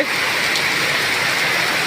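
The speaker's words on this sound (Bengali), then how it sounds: "কুষ্টিয়া জেলার মিরপুর থানার কাতলামারি গ্রামে মুসুলধারে বৃষ্টি" A heavy downpour pours over Katlamari village in Mirpur, Kushtia district, as a dense, unbroken roar of rain, loud and close throughout with no voices.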